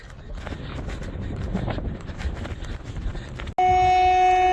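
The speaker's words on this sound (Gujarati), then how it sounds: "ટ્રેન આવી ગઈ છે મારે છેલ્લા ડબ્બેથી લેવાની છે ટિકિટ" A train arriving at a station rumbles and clatters steadily, then a loud sustained horn blares close by near the end.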